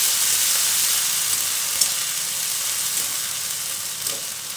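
Cumin paste sizzles in a hot pan as it is stirred, a steady close frying hiss with a few faint scrapes of the spoon and no talking.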